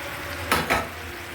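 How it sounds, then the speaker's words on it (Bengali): Eggplant, potato and snake gourd stirred through spices in a pan, giving two short scraping clatters of a utensil against the pot over a faint background hiss. "এই যে মশলার মধ্যে খুব সুন্দর করে একদম নাড়াচাড়া দিয়ে দিয়েছি"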